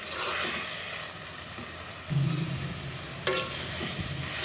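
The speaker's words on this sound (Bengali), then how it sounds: "দেখো সুন্দর করে শাকটা ভাজা হয়ে গেছে শাকের ভিতরে কিন্তু একটুকু জল নেই" Leafy greens (shak) cooked without added water hiss and sizzle steadily in a pan, with brief stirring scrapes; no talk.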